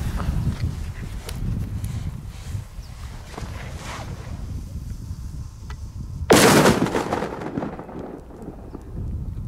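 Sharp outdoor bangs from firecrackers thrown onto ice crack across open space, one especially loud burst standing out near the end, with wind and background rumble throughout.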